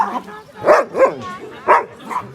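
Several dogs with megaesophagus bark and yip excitedly at feeding time indoors, giving loud close barks in a quick irregular run with whiny overtones.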